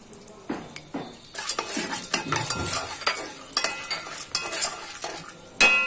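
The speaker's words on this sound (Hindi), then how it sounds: "अच्छे से इसको हल्दी को मिला लिया" A spoon scrapes and clatters around a pan while popcorn kernels are stirred with turmeric, giving irregular close knocks and rattles over a light sizzle.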